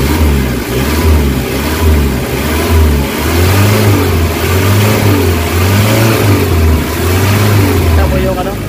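A Nissan Vanette van engine, after a hot engine treatment for low power and throttle delay, revs hard and repeatedly, loud and close, its pitch swelling and dropping in surges.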